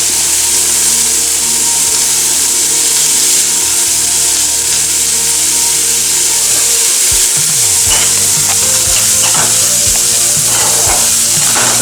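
Onion, green chili, ginger and garlic fry loudly and close in a pan, a dense continuous sizzle broken by scraping strokes of a spatula, with no voices.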